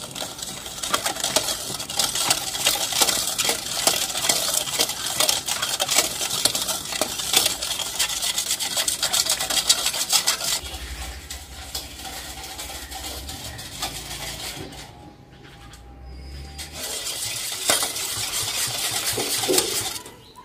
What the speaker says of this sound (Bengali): দুধ চিনি তেল একসাথে ভালোভাবে মিশিয়ে নিব আমি।